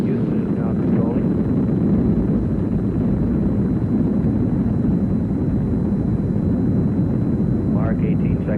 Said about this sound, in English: And we have a liftoff. The Skylab lifting off the pad now, moving up.